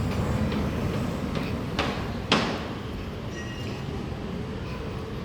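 Steady rumble of an MRT subway train in Singapore fills the space, with a couple of brief metallic clanks partway through and no talk.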